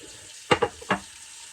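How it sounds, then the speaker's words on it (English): A few quick splashes of water scooped by hand and patted onto the face before shaving, three soft wet bursts close up against a quiet room. "I'll take some of the bloom water, and you can see it here, and put that on my face just prior to lathering"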